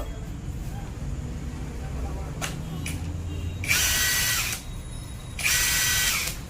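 A new impact wrench runs in a two-wheeler mechanic's shop, giving two short, loud whirring bursts of about a second each over a low background hum.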